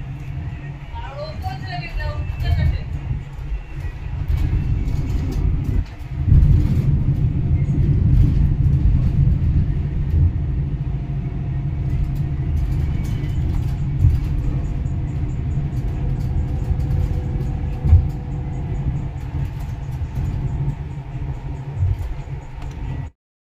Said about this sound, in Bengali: ডবল ডেকার ট্রেন, দোতলা ট্রেন, নিচেও আছে উপরেও আছে।